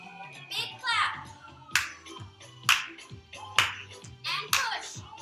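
Sharp hand claps from a chair Zumba class land roughly every second, five or six in a row, mixed with music and a voice talking between them.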